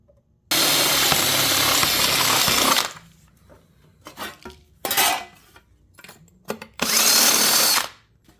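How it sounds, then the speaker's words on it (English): A power drill whirs loudly in bursts while drilling a hole in a metal panel: a long steady run, then a brief touch, then another solid burst of drilling, with quiet pauses between. "And that's exactly where you're going to drill."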